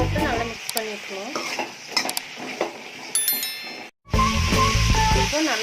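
A spoon stirs brinjal and potato poriyal with turmeric in a pan, scraping and clinking against the metal in uneven strokes over a soft sizzle, with a brief silent break near the end.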